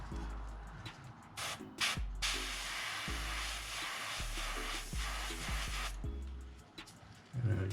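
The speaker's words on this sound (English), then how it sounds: "You can spray a little bit on the tail if you want." An airbrush sprays paint onto a micro bluegill fishing lure in short and long hissing bursts, steady and close, with a compressor thumping rhythmically underneath and brief pauses between passes.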